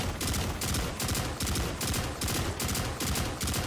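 Rapid automatic gunfire from a weapon in the video game Destiny 2, loud and dense, with a steady rhythmic pulse of shots and heavy low thumps throughout, with no talking.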